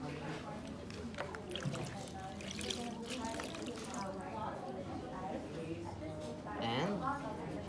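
A washcloth being rinsed in water during a patient's bed bath, soft trickling and splashing drips heard close by beneath a person speaking throughout.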